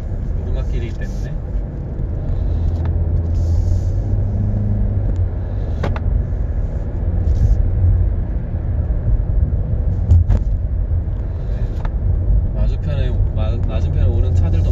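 A Hyundai Avante CN7 drives along a narrow winding mountain road, heard from inside as a steady low engine and road rumble with faint clicks, while someone talks over it.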